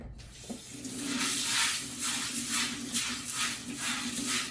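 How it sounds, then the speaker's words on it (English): Running tap water splashes steadily into a sink, with faint rattling from chickpeas being rinsed in a colander under the flow, continuous throughout. "Now we're going to wash them thoroughly through water."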